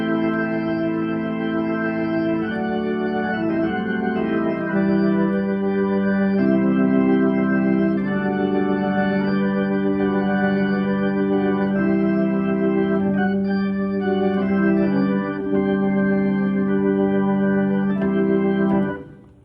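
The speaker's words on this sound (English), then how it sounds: "So in the lower manual, the A preset sounds something like this." A Hammond organ plays on the lower manual with the A preset, sustained chords held steadily and changing every few seconds for nearly twenty seconds, with no talking, before cutting off.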